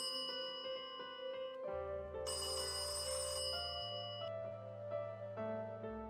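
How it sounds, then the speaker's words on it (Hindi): A telephone rings with a melodic electronic ringtone, a steady run of bright tones over sustained low notes, loud and close for several seconds with no voices. "जल्दी से घर जाकर अपने भाई राम को फोन करता है।"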